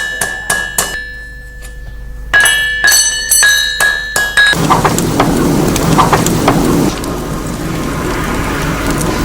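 Rapid metallic hammer blows ring out as a blacksmith shapes hot round iron on an anvil in quick bursts, then give way to a loud, rough hissing roar with scattered heavy thuds.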